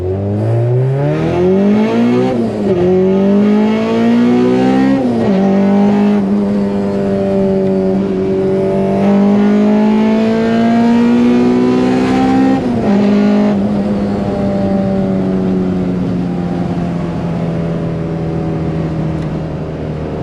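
An all-motor Honda Civic VTEC making over 180 kW accelerates hard in first gear, its engine screaming loud and close through repeated rising revs with brief drops between pulls, then holding a high sustained wail.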